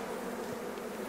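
Young nurse bees at a nuc box being installed give off a steady, dense, close hum that holds evenly throughout with no talking.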